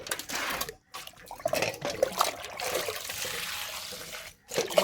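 Water trickling and splashing onto garden flower plants such as table roses and moss roses in dry soil, a steady soft pour with brief pauses, close and moderately quiet.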